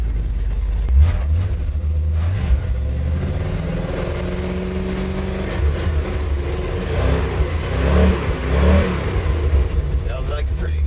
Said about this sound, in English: Sounds like a pretty nice motor, Mont.